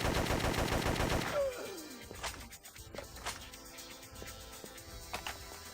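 Rapid automatic gunfire with muzzle flash in the video game Dark Apes: The Fate of Devolution, a fast rhythmic burst of loud shots that stops abruptly and gives way to quieter scattered clicks and effects.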